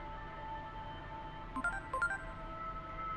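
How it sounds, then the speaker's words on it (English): Electronic beeping in the video game Digimon Story: Time Stranger, a few short tonal blips in a quick cluster partway through, sounding over a steady hum of game ambience. "Why is that beeping?"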